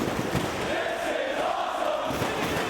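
Dense crowd roar at a live wrestling match in Chicago, steady and loud throughout with no breaks, a large arena audience cheering on a bloodied wrestler in a long fight.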